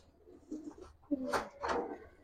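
Giribaz pigeons coo softly nearby, with a few low murmuring notes rising to two louder throaty coos in a short burst, with no talking.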